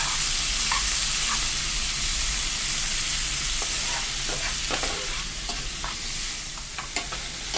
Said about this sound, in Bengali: তারপর তেল গরম হয়ে গেলে চিংড়ি মাছটা একটু ভেজে নেব।